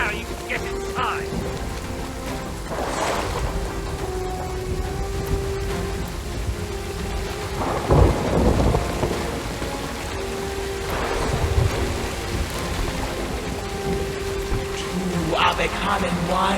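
A thunderstorm rages in the pirate video game Sea of Thieves, with steady heavy rain and rumbling thunder. Louder rolling cracks land near the middle of the storm, and a voice speaks over it.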